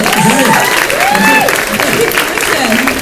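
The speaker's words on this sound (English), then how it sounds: "Can we have a round of applause, Peter Davison, please?" Applause from a comic convention audience at Scarborough, sustained and dense throughout, with a crowd's clapping filling the room while voices carry over it.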